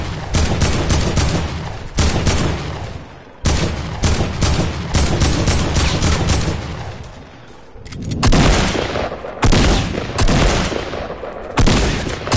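AK rifle fire in a video game comes in dense, loud bursts of rapid shots, with brief gaps between strings and a heavier, booming stretch near the end.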